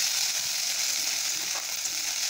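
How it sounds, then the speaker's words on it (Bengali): Onion paste frying in mustard oil gives a steady, close, continuous sizzle that holds evenly from start to end, with no voices. "পেঁয়াজটা একটু অল্প ভেজে নেব।"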